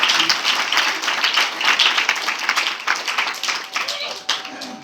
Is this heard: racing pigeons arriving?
no